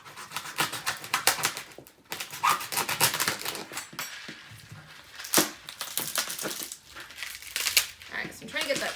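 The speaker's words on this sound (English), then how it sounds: "So I'm going to go ahead and just open up this loofah." Dry, papery crackling and crunching as a dried loofah gourd is crushed and pulled apart, coming in irregular bursts close up, with occasional sharp snaps.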